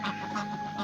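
Laying hens on a farm in South Korea cluck in short repeated bursts, close and moderately loud, with no speech.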